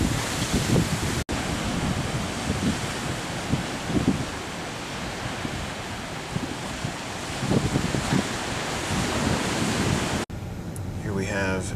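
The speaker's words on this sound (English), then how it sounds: "get a good idea of the waves bashing into" Ocean waves bashing into the Hawaiian shore near a sea arch, a continuous roaring surf with heavy wind buffeting the microphone and a few brief louder surges.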